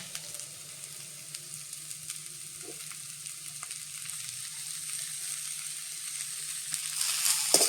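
Sprouted moth beans with garlic being stirred in a pan, a faint steady sizzle with soft scraping stirs, quiet throughout and slightly louder near the end.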